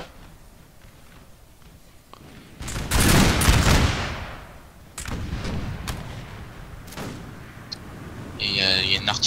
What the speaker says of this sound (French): il y a une artillerie autrichienne qui a lâché là, en fin de 6